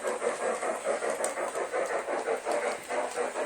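Bachmann Spectrum South Pacific Coast 2-6-0 Mogul model steam locomotive sound effects, a steady rhythmic chuffing hiss with regular pulses, moderately loud and continuous, no talking.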